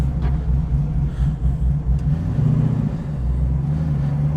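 A 1967 Pontiac Firebird on its first drive, the engine giving a steady low rumble and whir at cruising pace, fairly loud and continuous with slight swells, no talking.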